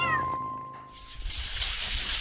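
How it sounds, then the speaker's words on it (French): A cat lets out a loud, close meow with a tonal, drawn-out start, followed by brushing, rustling noise. "Et mon petit chat aime beaucoup se promener."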